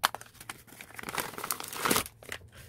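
A thickly wrapped gift package of stationery is torn open by hand, with close, loud crinkling and ripping of paper and plastic in bursts, building to a sharp rip before easing off.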